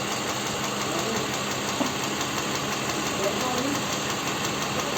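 A Toyota Highlander U50 with a 2GR-FKS V6 idles with an engine knock, a steady mid-pitched running drone with faint irregular tapping, close and continuous, while people talk nearby.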